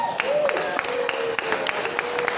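Audience clapping at a casual nerd-night talk event welcoming a first-time host, a steady wash of applause with scattered sharp claps, fairly close and continuous, with some voices mixed in.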